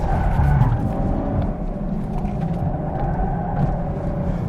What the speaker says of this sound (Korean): 모든 코너를 드리프트를 하면서 돌 수 있어요.